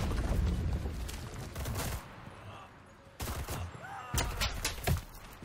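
Rapid bursts of fire from a PPD-34 submachine gun in the World War II shooter Enlisted, with three close, loud, rattling volleys separated by brief pauses.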